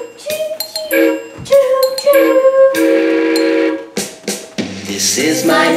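A playful train sound effect with whistle-like tones and chugging bursts, loud and close, shifting in pitch across several short phrases.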